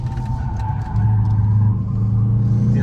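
A rally car engine rumbles and pulls harder as it accelerates on a gravel track, steady and close, heard from inside the vehicle.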